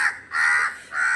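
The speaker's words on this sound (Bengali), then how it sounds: "কাক ডাকছে ওখানে" A crow caws three times in quick succession, loud and close, harsh calls with short gaps between them, during light drizzle.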